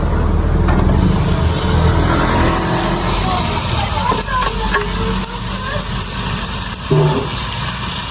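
Vegetables go into a pan of sautéed beef for a calderita, and a loud, close sizzle rises with scraping stir sounds, while a voice talks over the frying.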